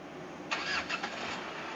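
A 2012 Mitsubishi Strada Triton automatic pickup engine starting: a short cranking burst that catches and settles into a smooth idle, fairly quiet and close, with no speech.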